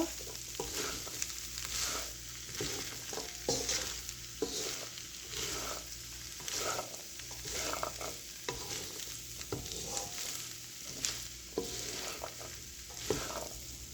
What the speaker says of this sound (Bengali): এখন আমি 1 চা চামচ চাট মশলা দিয়ে দিচ্ছি। দিয়ে ভালো করে নাড়া দিব।